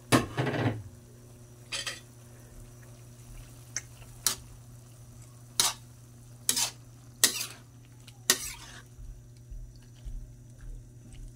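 Squid being stir-fried for adobong pusit with kangkong, a steady low sizzle in the pan broken by sharp scrapes and clanks of a utensil stirring at irregular intervals.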